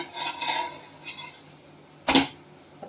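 Cooked mung bean dosa lifted from the pan onto a plate: a few soft scrapes followed by one sharp metallic clink of a utensil against cookware, close and fairly quiet.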